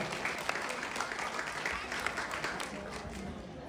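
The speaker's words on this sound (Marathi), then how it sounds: "त्यांच्यासाठी परत एकदा जोरदार टाळ्या वाजवा" An audience claps for a guitarist at a live music concert, a steady wash of applause held at a moderate, somewhat distant level for the whole stretch, with no break.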